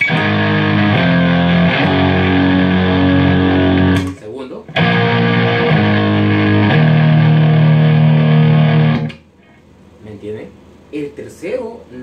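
A bass guitar plays through a Tech 21 SansAmp NYC pre-classic pedal, first version. Two loud, sustained, distorted note passages are split by a short gap, and quieter noodling and handling noise follow.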